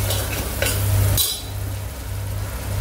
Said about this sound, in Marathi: तेलामध्ये चांगलं परतून घ्यायचंय सगळं।